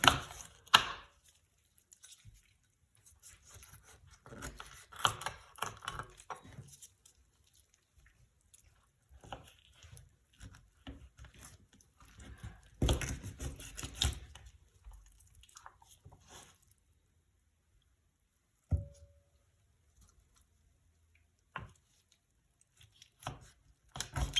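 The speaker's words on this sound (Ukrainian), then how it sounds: "Беремо курячі крильця, ми їх будемо розрізати на частинки, хоча їх можна запікати і цілими." A knife chops chicken wings into pieces on a board, with scattered close cuts and taps separated by quiet pauses, plus a few wet handling sounds.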